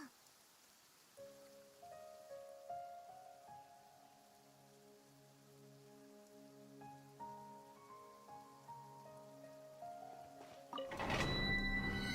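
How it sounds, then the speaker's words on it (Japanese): Rain falls steadily beneath sustained tonal music, ending in a sudden louder, noisy burst near the close. "また雨か。"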